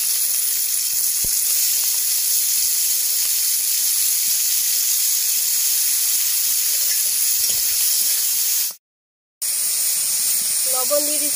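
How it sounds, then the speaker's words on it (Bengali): Snails fried in mustard oil in a wok give a steady, loud hiss and sizzle that runs continuously, broken by a short drop to silence near the end before resuming. "কড়াইয়ে আবার সরষে তেল দিয়ে দিচ্ছি। এবার গুগলিগুলো দিয়ে ভেজে নেব।"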